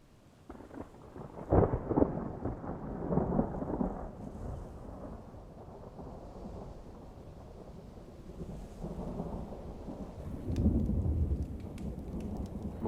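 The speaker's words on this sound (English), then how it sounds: "Sounds like thunder." Low rolling thunder rumbles beneath a steady wash of rain falling on a surface, with a few louder swells of thunder rising and fading, and no one speaking.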